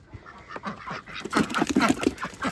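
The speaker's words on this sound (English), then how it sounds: "The females quack for the Peking ducks." Female Pekin ducks quack on a farm, a close, rapid series of nasal quacks that grows louder and more insistent over a few seconds.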